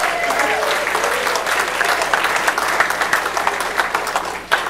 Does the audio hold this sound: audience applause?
yes